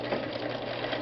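A vintage Viking 6690 sewing machine, a European model, runs a straight stitch at 2.5 mm length with a steady, continuous whir and motor hum, close up and without talk.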